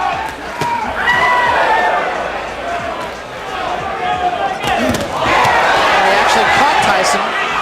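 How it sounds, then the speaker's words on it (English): A boxing arena crowd at a Mike Tyson fight roars and cheers in swelling waves, loud and dense throughout, with a ringside commentator talking over the noise. "And the crowd again showing its both appreciation and"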